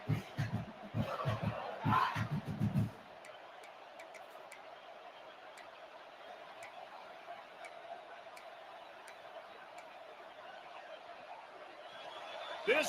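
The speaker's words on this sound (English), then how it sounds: "This crowd bringing the energy and noise early." Stadium crowd in the NCAA 26 college football video game, a steady broad roar sustained throughout, with louder rhythmic chanting and thumping bursts in the first three seconds before settling into continuous background noise.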